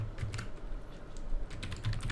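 Computer keyboard typing code, with rapid irregular keystrokes clattering close up and steadily throughout, over a low hum and no talking.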